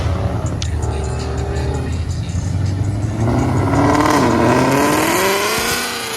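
Ford Mustang GT500 at a car meet, a loud nearby engine rumble that builds into a hard rising rev as it pulls away, with background voices.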